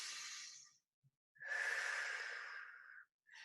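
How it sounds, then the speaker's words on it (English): A deep breath during a seated flexibility workout: a long airy inhale followed by a slower, louder exhale, close and alone with no talking. "take a deep breath."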